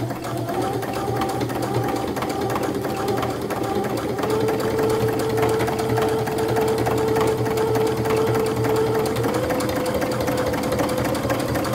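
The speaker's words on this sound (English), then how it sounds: "We could do a little reinforcement stitch here." A sewing machine runs steadily for about twelve seconds, stitching a reinforcement seam through many thick layers of a bag; the motor's hum and rapid needle chatter stay loud and even, with no voices.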